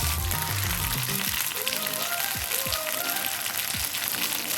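Green chillies frying in hot oil for mirchi fry, a steady close sizzle and crackle throughout with faint pops, no talking.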